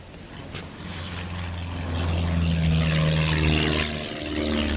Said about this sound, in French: L'avion vole rue de Montblanc. Il va passer juste au-dessus de la tour.